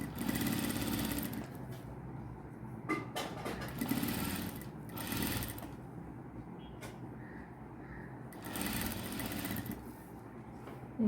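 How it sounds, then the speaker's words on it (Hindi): A sewing machine runs in several short stitching bursts with pauses between them, sewing lace onto the edge of a dupatta, fairly quiet and close with light handling sounds. "सिलाई लगा दूँगी।"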